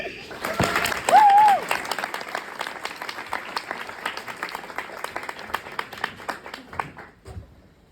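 A crowd claps steadily to welcome a speaker at a Lavender Graduation 2022 ceremony, with a brief cheer near the start; the dense applause holds for several seconds, then thins and fades out.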